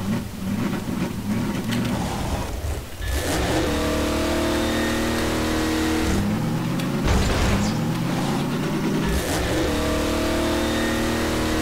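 Vehicle engine in the video game Half-Life 2 Episode 2 revs hard with a turbo boost, rising and falling in repeated surges, loud and close with no talking.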